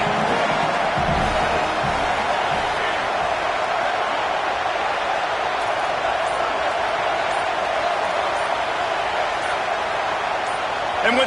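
A football stadium crowd roars continuously as a steady, loud wash of noise with no breaks, and a broadcast voice talks over it.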